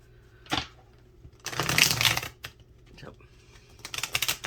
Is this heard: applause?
no